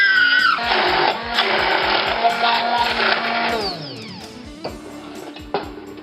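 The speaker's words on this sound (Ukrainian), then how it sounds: "Жарену капусту подрібнюємо блендером" A blender chopping fried cauliflower whirs loudly for several seconds with a steady high-pitched motor drone, then winds down and stops.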